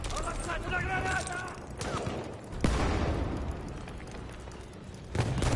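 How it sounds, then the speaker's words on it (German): Grenade blast and scattered gunfire in the World War I shooter Battlefield 1, a sharp burst midway among ongoing battle noise, with voices talking over the fighting. "Ho lanciato una granata!"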